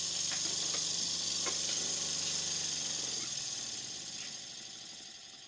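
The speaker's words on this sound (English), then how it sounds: "Time for me to stop talking and just let you listen and watch the engine running." Vintage Bassett-Lowke steam engine running, a steady mechanical hum with faint rhythmic ticking and clicking, moderately quiet and alone, easing slightly near the end.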